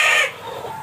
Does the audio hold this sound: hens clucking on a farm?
yes